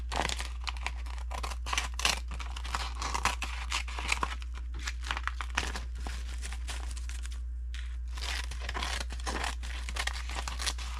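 A sheet of nori cut to size for spam musubi gives dry crinkling, crisp snipping and tearing sounds in irregular bursts, close and quiet over a steady low hum.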